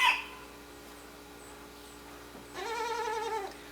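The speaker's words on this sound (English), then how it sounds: "That's the little sound that tells you it's starting to affect them and they're feeling sleepy." A goat kid sedated for disbudding gives a brief quivering bleat near the end after a short chirp at the start, faint and close over a quiet background.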